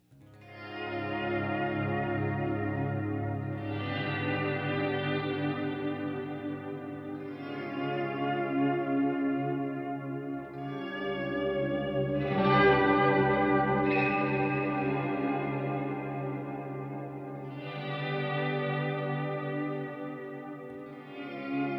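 A Walrus Audio Slotva pedal paired with an M1 modulation unit swells through a rising, cinematic synth-like drone with chorus, echo and distortion, layered sustained tones building and shifting in waves, loud and continuous throughout.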